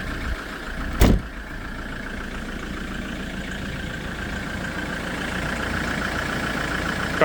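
A 2009 Land Rover Defender 110 Utility XS engine idles steadily at close range, a low continuous hum with a single sharp click or knock near the start.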